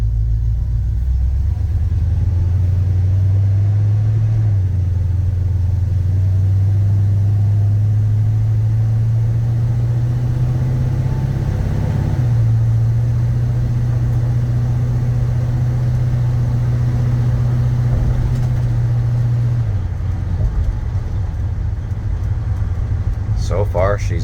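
A 1966 Chevrolet C10 pickup truck on a test drive, its engine giving a steady low rumble that rises and drops in pitch through gear changes, loud and close from inside the cab.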